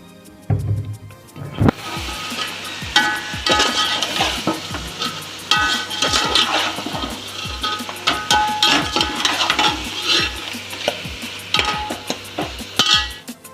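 Chicken leg pieces frying in biryani masala in a hot pan, a steady loud sizzle broken by rapid, repeated scrapes and knocks of a ladle as the pieces are stirred and turned.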